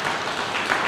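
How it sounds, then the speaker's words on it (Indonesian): Audience applause during a church service, a dense, steady wash of many hands clapping, loud and continuous for a moment. "Berikan tepuk tangan yang meriah."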